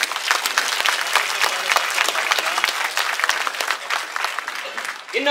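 Loud, sustained applause from an audience at a cooperative bank's annual general meeting on a merger vote, dense clapping continuing for several seconds before tapering at the end.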